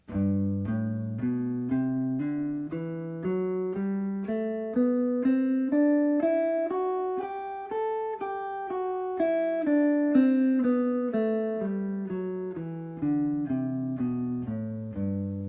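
A musical scale played slowly and evenly as a practice demonstration, clear sustained pitched notes stepping up and then back down one at a time, each note distinctly struck, with no talking.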